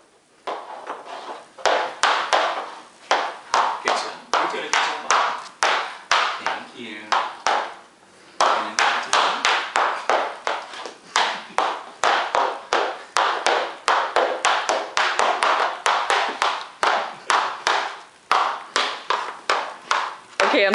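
High heels tap on a wooden floor in a long, quick, uneven run of close, crisp steps, with a short pause partway through.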